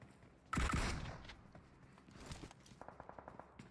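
A loud burst of gunfire opens a video-game firefight, then quieter scattered shots follow, and a rapid run of evenly spaced automatic rounds comes near the end.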